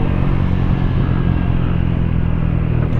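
A Honda ADV160 scooter's engine runs close by near a café on the Marilaque highway, a continuous loud motor drone with a faint rattle and no voices.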